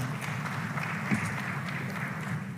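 An audience at a Tanzania–Singapore business forum gives a round of applause for the Excellencies, a soft, steady patter of clapping heard from a distance throughout.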